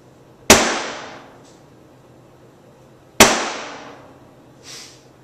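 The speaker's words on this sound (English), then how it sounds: "What do you think about me shooting a guitar?" Two sharp, loud gunshots about three seconds apart, fired at an Ovation acoustic guitar, each a hard crack trailing into a ringing decay, with a faint clink after the second.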